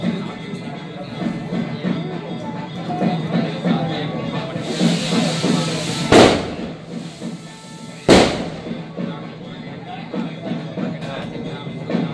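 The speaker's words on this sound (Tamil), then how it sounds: "படாசு வெடிக்குது." Firecrackers burst at a Hindu temple festival during an anniversary abhishekam, with a steady crackle of pops and hiss under crowd noise, then two sharp loud bangs stand out close by.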